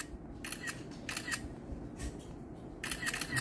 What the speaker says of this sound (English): so here is the shutter sound.